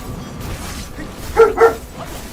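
A dog barks twice in quick succession amid ongoing game sounds and background music, the yips fairly close and clear above the mix, during a spear fight in Where Winds Meet.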